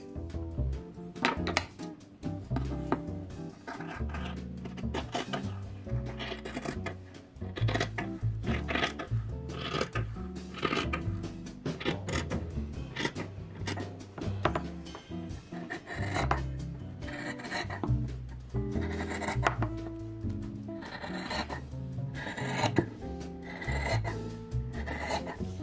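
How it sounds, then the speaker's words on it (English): Fabric for a 1950s petticoat is cut with scissors in a steady run of close, rasping snips and rubbing sounds, with occasional soft thunks on the table, continuing throughout without talk. "So what I'm going to do now is I'm going to cut out my fabric."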